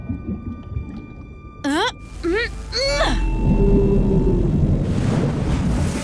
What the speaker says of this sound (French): J'ai fait peur à une baleine grise et elle t'a soufflé par son évent.